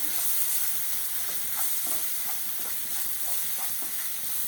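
Grated coconut fries with tomatoes in a pan for a tomato pachadi, making a continuous soft hissing sizzle with faint stirring scrapes, close and steady.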